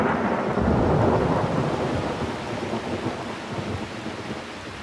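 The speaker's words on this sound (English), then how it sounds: "Under cover of darkness, the monsoon arrives in Rajasthan." A monsoon thunderstorm arriving over Rajasthan at night: deep rolling thunder rumbles under steady rain, loud at first and then easing slightly.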